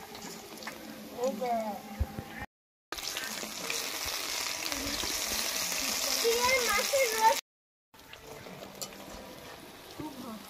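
Pumpkin flowers and brinjal in a thin gram-flour batter fry in hot oil with a steady close sizzle and occasional stirring, while someone talks over it; two short silent gaps break the sound.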